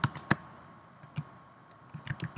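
Quiet, close typing on a computer keyboard, with scattered clicks in an uneven rhythm and a short burst of quick keystrokes at the end.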